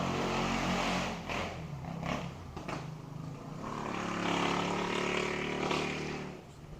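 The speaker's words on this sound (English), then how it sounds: "that was a motorcycle with no muffler." A loud, rough motorcycle engine with no muffler roars close by, rising and falling as it passes, with a harsh unmuffled rumble throughout.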